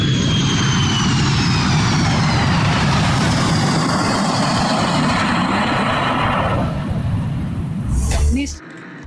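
Airplane sound effect played on a radio show: a loud, steady engine roar with a rising whine that slowly fades over several seconds before cutting off with a short clatter.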